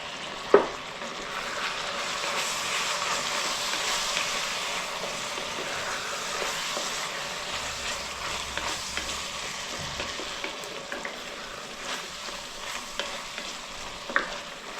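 Beef tips sizzle and fry in a hot pan with a steady crackling hiss, punctuated by occasional stirring scrapes and small pops, close and continuous throughout.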